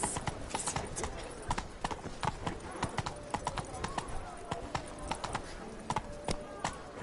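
Hooves of Roach, a horse in a PS4 video game, clip-clopping in a quick, even galloping rhythm over game ambience, with a faint whinny and some character speech mixed in.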